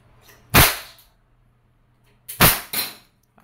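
An Umarex Beretta PX4 Storm airgun firing pellets, three sharp cracks: one single shot, then a pause, then two shots in quick succession, each snapping loudly against near silence.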